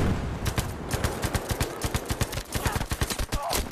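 Rapid automatic gunfire from the video game Battlefield 5 fires in quick, evenly spaced bursts of sharp, loud reports, with brief pauses between volleys and no talking.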